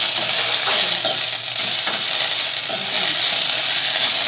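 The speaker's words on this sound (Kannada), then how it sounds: "ಈ ರೀತಿ ಇದನ್ನ ಫ್ರೈ ಮಾಡ್ಕೊಳ್ಳಿ ಲೈಟಾಗಿ." Washed curry leaves frying lightly in a small amount of oil, giving a loud, steady hissing sizzle close up, with occasional stirring scrapes and light clinks in the pan.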